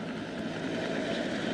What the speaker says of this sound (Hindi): कोबरास के बाद बेल 412 हेलीकॉप्टर्स की फॉर्मेशन, जिसकी क़यादत लेफ्टिनेंट कर्नल हसन खालिद कर